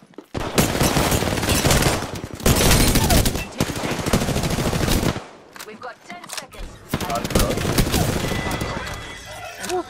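Heavy video game gunfire, with shotgun blasts among it, roars in long dense bursts that are loud and close, then drops to a quieter stretch before more shooting.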